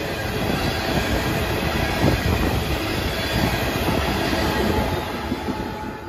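A mega combined freight train on the Chicago Line, tank cars at the head end, sand hoppers at the rear and three DPUs, rumbles past close by in a steady loud wash of rolling wheels and rail noise.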